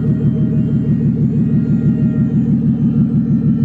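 A BMW E30 with an M50 engine idles with no exhaust fitted, producing a loud, raw, throbbing rumble that pulses steadily and close throughout, with no talk over it.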